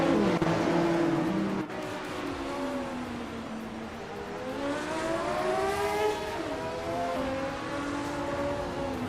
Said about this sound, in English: Lian Yashashin is driving an MKRC 841 from 1985, but she's holding 7th place